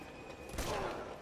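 A single heavy hand cannon gunshot in the video game Uncharted 2, one sharp loud boom with a brief rumbling tail over faint game ambience.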